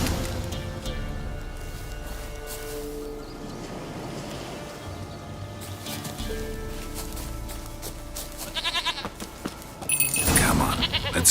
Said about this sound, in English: Here, goat. Here, princess. Hoofed and horned.